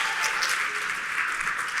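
Brief, steady burst of audience applause at a talk on purpose and leadership, a dense even patter of clapping hands throughout.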